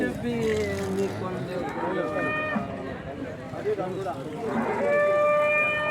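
Punganur cows at a cattle market, with several loud, drawn-out moos rising and falling among crowd voices and general market bustle close by.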